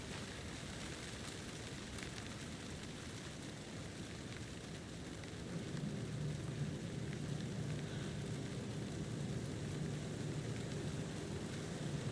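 Rain in the video game Alan Wake 2, a steady dense hiss of falling rain with a low rumbling undertone that thickens partway through, continuous and fairly faint, no voices.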